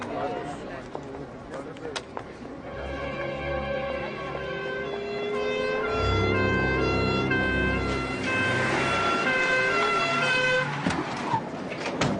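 An ambulance siren wails, rising and swelling in the distance, joined by honking horns, while people talk over it.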